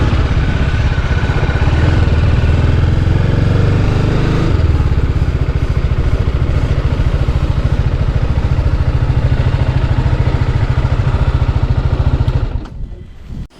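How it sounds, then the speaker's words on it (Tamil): A motorcycle idling at a fuel station while being refuelled with petrol, a loud steady chugging engine rhythm close by for about twelve seconds, then stopping abruptly. "வாங்க நம்ம வண்டிக்கு பெட்ரோல் போட்டு போவோம்."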